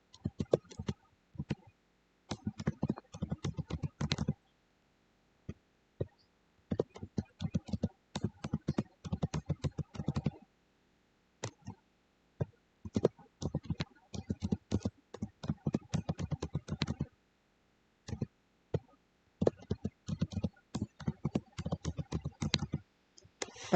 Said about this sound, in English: So I'm going to type all these out.